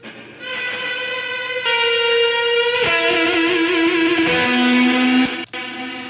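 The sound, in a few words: guitar solo with reverb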